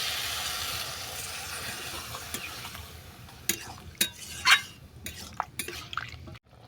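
A mixed vegetable curry is sautéed and stirred in a pan on a Bengali home stove: a soft sizzle fades, followed by scattered scraping and clinks of a spoon against the pan.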